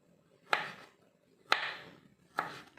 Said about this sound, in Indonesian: Sekarang ini mau saya iris-iris ya. Kunyitnya diiris.